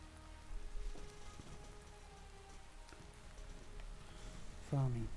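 Steady pattering rain in the video game Minestory falling on a surface, with a faint voice-like tone near the end.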